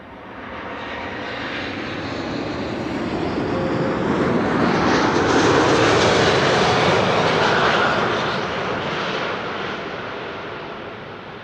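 A Turkish Cargo Airbus A330 freighter, inbound from Istanbul, lands at Amsterdam Schiphol with a broad engine roar that swells to a loud peak midway and then fades slowly as the jet passes and rolls out.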